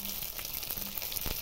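Garlic, tomato, green chili and ginger paste frying in a pan for a Bengali egg and pointed gourd curry, giving a steady close sizzle with faint stirring clicks.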